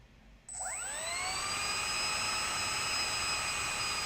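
A model F-22 Raptor's electric motor spins up from silence into a rising high-pitched whine that climbs quickly and then holds a steady, close, piercing tone.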